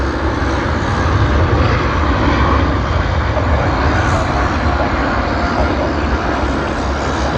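An Emirates airliner takes off at Sydney Airport, its jet engines a steady, loud, broadband roar that holds without pause throughout.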